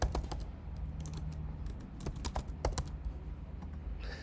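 Computer keyboard keys clatter in quick irregular bursts, close and crisp, with short pauses between runs of keystrokes and no voices.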